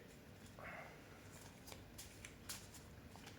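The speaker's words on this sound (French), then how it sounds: "On va le mélanger." A deck of playing cards being shuffled by hand during a card trick, a soft riffling burst followed by a few quieter flicks and taps, close and faint against low room noise.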